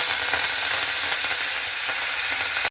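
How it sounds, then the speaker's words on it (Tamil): Cumin and curry leaves fry in hot oil for a village-style brinjal dish, making a loud, dense, continuous sizzle that stays even throughout before cutting off abruptly. "அதுக்கு பிறகு கொஞ்சோல சீரகம் போடுறேன் அதுக்கு பிறகு கருவேப்பிலை போடுறேன்"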